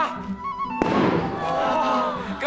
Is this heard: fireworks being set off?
yes